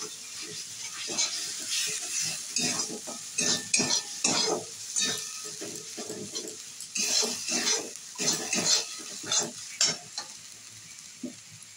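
A spoon scrapes and stirs pointed gourd curry (potol kosha) in a hot pan of oil, giving repeated clattering strokes over a steady sizzle, close and clear with no talking.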